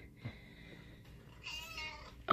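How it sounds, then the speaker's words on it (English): A house cat gives a short, faint meow followed by a louder, higher one at the very end, in a quiet indoor room. "Meow."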